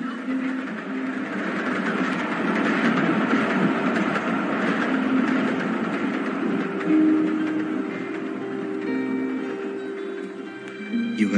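A steady train-running sound effect for a radio drama: continuous rumbling carriage noise with faint rhythmic clatter and a few tonal whistle-like notes near the end, with no talk over it.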